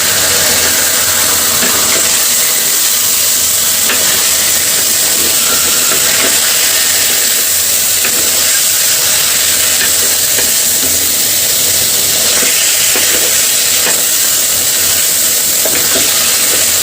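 Fish frying and being stirred in a tomato masala in a pan, a steady loud sizzle and hiss running continuously with faint scraping stirs and no voices.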